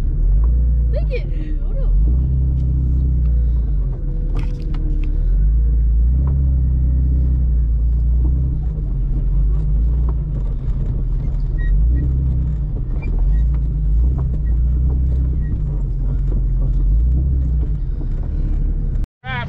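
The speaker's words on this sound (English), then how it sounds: "So we're gonna grab the Jeep and winch the box." A Jeep engine rumbles steadily at low pitch while winching a box off a Ram 3500 stuck in thick mud, the drone continuous and close, with scattered clanks and voices in the background.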